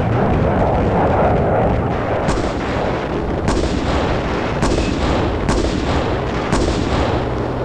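Tanks and field guns fire directly across a river during a 1984 military exercise, a steady roaring barrage with repeated sharp blasts about once a second over a continuous loud din.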